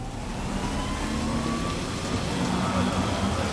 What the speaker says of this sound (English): Rain in Cyberpunk.